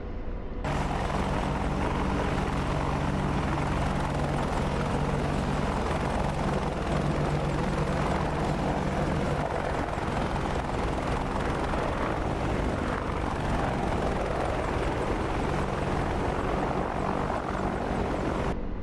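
An Apache attack helicopter in the DCS World flight simulator flies forward with a constant, dense rotor and turbine roar that holds steady throughout, with no talk over it.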